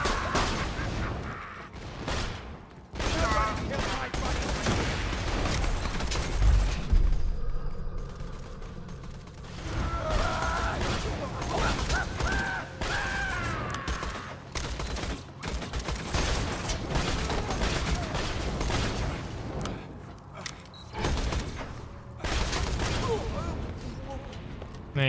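Enemy gunfire in the Borderlands 2 shooter game: a barrage of sharp gunshot bursts and rattling volleys, loud and scattered, over busy game effects, with someone talking over parts of it.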